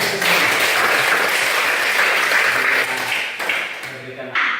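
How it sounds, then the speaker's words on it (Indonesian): Schoolchildren applauding together in a classroom during a primary science lesson, a dense, steady wash of clapping that carries on for several seconds with voices mixed in, then tapers off briefly near the end. "kita berikan aplaus dulu"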